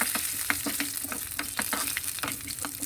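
Rhythmic scraping strokes of a spoon mixing ginger chutney with crushed garlic in a pan over a steady low sizzle, close and repeated about every quarter second.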